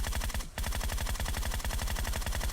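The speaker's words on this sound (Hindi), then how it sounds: "क्या ही शॉट था भाई ये वाला" Rapid automatic gunfire from the battle royale game PUBG Mobile, a loud continuous burst of close shots in steady rhythm with a brief pause early on, with no talk over it.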